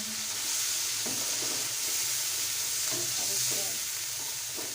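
Garlic-ginger paste and chickpeas sizzle in a pot while a spoon stirs them, scraping and clacking at irregular intervals over a constant hiss of frying. A brief spoken phrase is heard.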